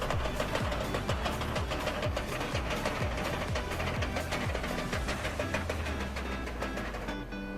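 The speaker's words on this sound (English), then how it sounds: "12H2 DTF printer." A 12H2 DTF printer printing direct-to-film transfers runs as a steady, dense mechanical drone with a rapid repeating rhythm of carriage passes and clicks, loud and close throughout with no talking.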